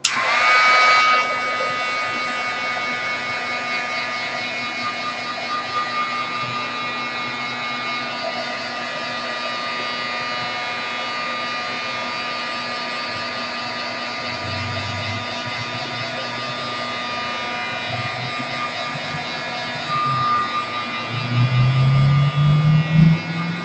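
A hair dryer blows steadily and loudly on a mixed media art layer, a continuous whirring roar that holds almost unchanged for over twenty seconds, with a faint low hum shifting near the end.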